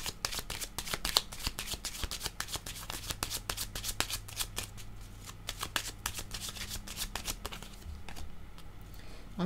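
A deck of playing cards is shuffled over and over, a steady run of quick riffling bursts close by with only faint background noise and no talk.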